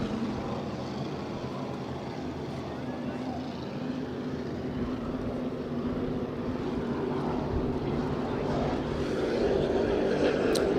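A racing powerboat's engine roars in a continuous drone that grows louder toward the end as it passes close by during a New York offshore powerboat race.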